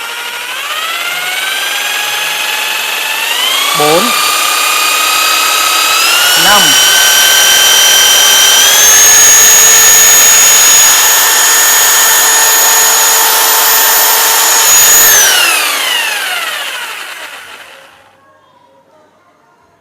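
A Maxpro 800W MPJS800VLQ variable-speed electric jigsaw whines steadily, its motor pitch stepping up through speed settings to a high scream before winding down, with brief spoken words at two points.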